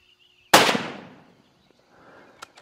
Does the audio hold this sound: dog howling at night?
no